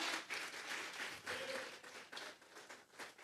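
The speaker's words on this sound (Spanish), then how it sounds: "Vamos a regalarle ofrenda de palmas al Dios de la gloria." Church congregation applauding as an offering of praise during a Sunday service, many hands clapping in uneven swells that rise and fall, with some faint voices mixed in.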